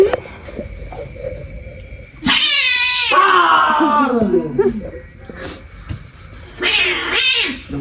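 A cat meows and caterwauls loudly in a home, with drawn-out wavering yowls in two bursts over a quiet room background.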